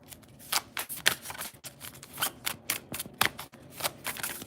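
Tarot cards being shuffled by hand, a steady run of close, crisp riffling bursts repeating every half second or so with no talking.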